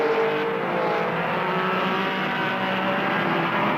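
Racing cars, including a Porsche Spider and a DB from Germany, speeding down a straightaway, a steady loud engine roar holding at a constant pitch with no talk over it.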